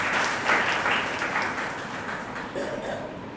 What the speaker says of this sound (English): Give a big round of applause to sir.